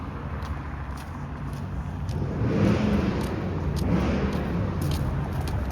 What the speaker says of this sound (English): Why do those engines have to be so loud?